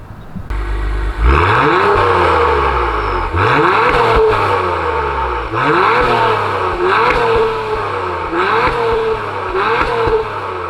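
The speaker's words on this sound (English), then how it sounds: "You also get the quad tips, big tips, so you know it's time for that sound test." A 2021 Acura TLX Type S sports sedan engine revs hard in repeated bursts through quad exhaust tips, each climbing then dropping back, loud and close with a throaty exhaust rumble.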